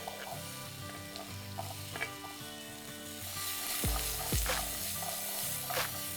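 Diced potatoes hit hot oil seasoned with turmeric over a low flame, giving a steady close sizzle and frying crackle with scraping stirs and a few sharp clinks of a utensil against the pan.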